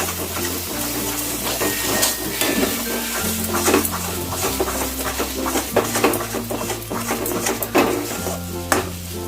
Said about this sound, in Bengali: এই কম আছে দিয়ে আমি পাঁচ সাত মিনিট এইভাবে মাঝে মাঝে নেড়ে দেবো